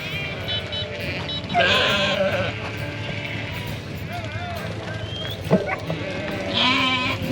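Sheep bleat loudly nearby in bursts on Honister Pass in the Lake District, with hooves clattering and a low vehicle hum underneath; a person speaks briefly between calls.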